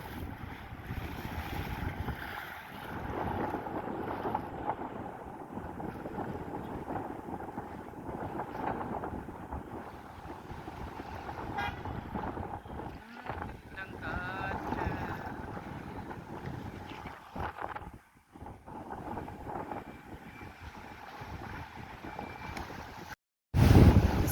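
Steady, strong cyclonic wind buffeting the microphone over the sea at Pannai, Jaffna, with waves and water rushing continuously throughout, ending in a short loud gust.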